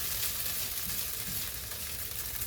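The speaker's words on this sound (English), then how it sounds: "We've got lovely sizzle." Beefless bulgogi sizzles steadily in a hot pan, a dense, constant crackle that stays close and even with no voices over it.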